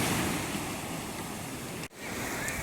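Ocean surf breaks and washes steadily along Lido Beach after storm Hermine, a continuous broadband roar with wind buffeting the microphone and a brief dropout near the end.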